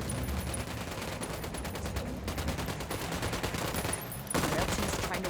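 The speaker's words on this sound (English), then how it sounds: "Opening fire on these fuckers" Sustained in-game gunfire from Ghost Recon Wildlands: dense, rapid automatic bursts that run continuously and loudly, with a brief dip and then a heavier burst near the end.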